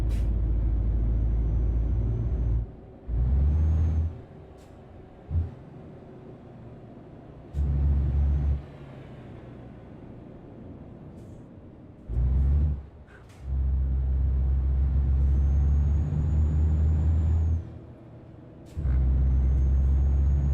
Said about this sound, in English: Oop, I got good brakes.